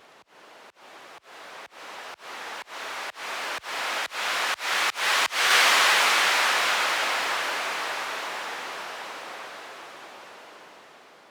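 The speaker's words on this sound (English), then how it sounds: "a pretty very basic noise with no treatment after the synthesizer" Bursts of synthesized white noise, unprocessed after the synthesizer, pulse in a quickening rhythm like a shaker, then merge into a sustained hiss that slowly fades out.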